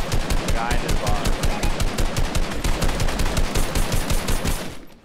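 Rapid automatic gunfire in Fortnite, a loud continuous stream of closely spaced shots lasting several seconds before cutting off, with players' voices talking underneath.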